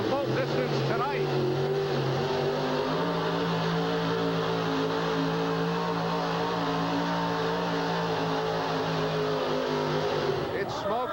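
Bob Pugh's Stubborn Mule monster truck, at a 1989 USHRA event in Hartford, drones with a steady, wheezing engine note. It holds a constant pitch that rises slightly partway through, close and continuous beneath an announcer's voice.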